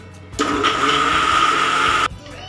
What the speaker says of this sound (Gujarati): આપણે આ કેરી બધી મિક્સરમાં કાઢી લઈશું